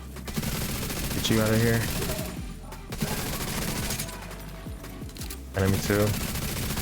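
Bursts of automatic gunfire crackle in The Division 2, dense rapid shots layered over a steady battle din, with brief voiced callouts from the game cutting in twice.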